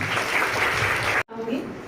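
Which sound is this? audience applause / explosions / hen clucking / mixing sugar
audience applause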